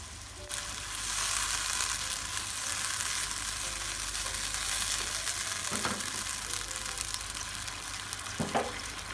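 Rice vermicelli frying in a hot pan as a little water goes in, giving a loud, steady sizzle throughout with a couple of brief stirring scrapes near the end.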